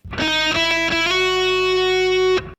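A heavily distorted electric guitar plays a few quick picked notes, then rings out on one long sustained note before cutting off abruptly.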